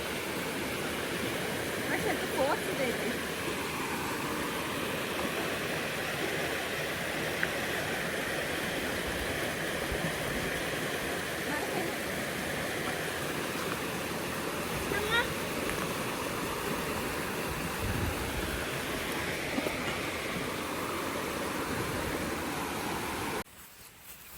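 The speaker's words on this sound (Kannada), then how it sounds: "ನದಿ ಹರಿತಾ ಇದೆ" River flowing at a valley resort, a steady broadband rush of water that stays loud and unbroken for the whole stretch, with faint voices mixed in before it cuts off at the end.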